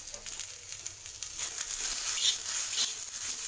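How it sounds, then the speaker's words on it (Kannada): Okra (bendekayi) fries in oil in a pan with a bright, steady sizzle that swells slightly, close and continuous, with no talking. "ಬೆಂಡೆಕಾಯಿ ಹಾಕ್ಕೊಂಡು ಫ್ರೈ ಮಾಡ್ಕೋಬೇಕು"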